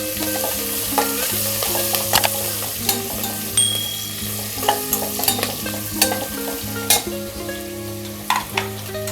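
Onions sautéing in a pan for masala rice: a steady sizzle of frying with repeated scraping and clinking stirs of a spoon against the pan, close and clear.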